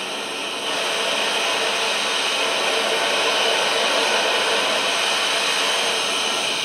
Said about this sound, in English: I actually get a perfect little flame coming out of there with a nice neutral in the center